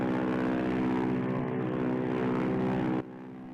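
Propeller aircraft passing overhead in the Silent Hunter III submarine game, a steady loud droning engine hum that holds level and then drops off sharply near the end.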